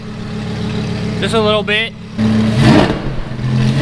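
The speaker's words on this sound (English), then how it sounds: "Dude, this exhaust is wicked. I gotta give it a little bit of gas." Straight-piped exhaust on a Lamborghini Huracan, idling loudly, then a short throttle blip that swells into a rough, booming rev before settling back; someone speaks briefly just before the rev.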